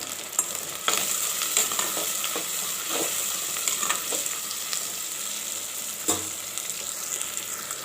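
Onion and tomato sizzle and fry in a pan while a spatula stirs and scrapes them several times, with occasional sharper clinks against the pan.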